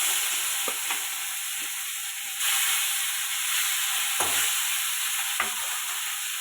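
Live fish fries in a little oil, a steady close sizzle and hiss with occasional soft stirring knocks and clinks.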